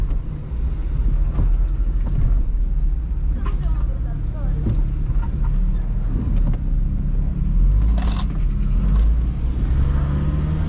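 Steady engine rumble and road noise inside an automatic 2000 Honda Civic LX on a city street, with someone talking over the drive and passing traffic around.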